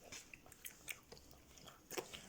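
Soft, close biting and crunchy chewing of blueberry-flavored food, a series of brief crisp bites at irregular intervals, faint and quiet.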